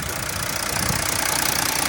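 A Mercedes W204 C320 Sport AMG with a 3.0 V6 M642 engine idles smoothly, a steady, even, close-up hum with a soft rhythmic pulse and no voices.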